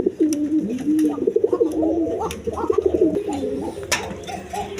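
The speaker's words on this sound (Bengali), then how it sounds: "দর্শকবৃন্দ দেখেন এইখানে আরেক পেয়ার কবুতর আছে," King pigeons kept in breeding pairs coo close by in repeated rolling, throaty phrases, with sharp clicks and scuffles in between and no talk.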